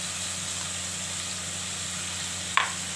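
Black mustard seeds sizzle in a hot pan with a steady, even frying hiss throughout, broken once by a single sharp tick near the end.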